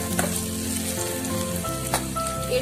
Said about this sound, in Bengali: এরপর আমি এখানে 2টো শুকনো লঙ্কা আর 2টো কাঁচা লঙ্কা, চেরা কাঁচা লঙ্কা আমি দিয়ে দেব। দিয়ে কয়েক সেকেন্ড আমি নাড়িয়ে নেব।